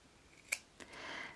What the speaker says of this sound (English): I'm going to trim the fabric at the pointy corners